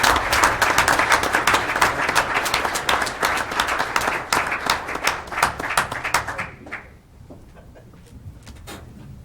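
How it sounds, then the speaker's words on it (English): An audience at a township reorganization meeting gives a hearty round of applause, dense clapping that thins out and fades to a few scattered claps near the end. "please join me in a round of applause for Sergeant"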